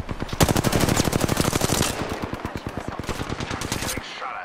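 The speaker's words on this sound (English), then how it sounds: "Getting shot at." Rapid automatic gunfire from the Apex Legends video game goes off close and loud in a long, even burst of shots. It runs for about four seconds and then stops abruptly.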